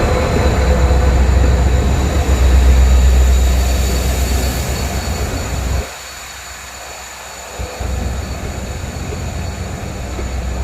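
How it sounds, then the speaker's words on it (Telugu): A train coming from Medchal rumbles past close by, a loud continuous roar that dips briefly before swelling again, with no talking over it. "మేడ్చల్ నుంచి ట్రైన్ అయితే వస్తుంది"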